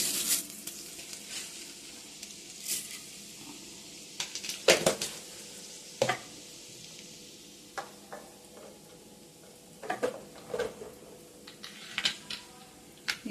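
Cumin seeds and urad dal crackling in hot oil, a faint continuous sizzle broken by scattered pops and a few louder clatters of a spoon or pan, heard close with no voices.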